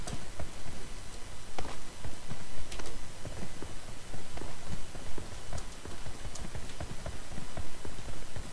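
A horse's hooves clip-clop steadily in PUBG, with close, sharp, repeated knocks in an uneven walking rhythm that keeps going throughout.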